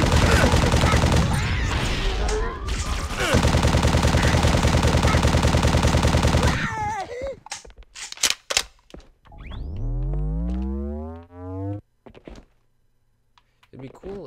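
Gunfire in a Halo Custom Edition firefight on the PC, with several seconds of dense, loud automatic fire, then scattered shots, sharp clicks and a rising whooshing effect.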